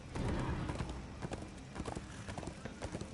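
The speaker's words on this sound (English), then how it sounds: "And I can call him a horse." Summoned horse galloping in Darksiders 2, rapid clip-clop hoofbeats pounding close and loud, with a whinny near the start and the beat continuing to the end.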